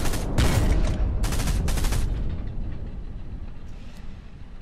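Tank main gun fire in the World War II shooter Hell Let Loose: several heavy, booming bursts of gunfire in the first two and a half seconds, then a long rumbling tail fading under engine noise, with no talk.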